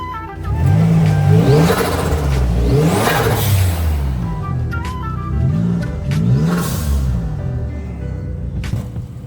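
A nearby 1996 Nissan Gloria Gran Turismo Ultima engine revs up repeatedly, pitch rising and falling in several bursts over a steady idle, loud and close.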